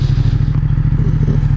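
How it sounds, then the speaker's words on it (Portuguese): A Ducati XDiavel's two-cylinder L-twin engine throbs at low revs, a loud, close, evenly pulsing low rumble with a slight mechanical clatter throughout. "por ser um motor 2 cilindros em L, ela vibra bastante em baixa rotação"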